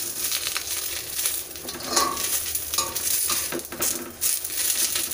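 Chennangi leaves sizzle and fry in a pan while a spoon stirs and scrapes them in uneven strokes, close and fairly loud, with no talking.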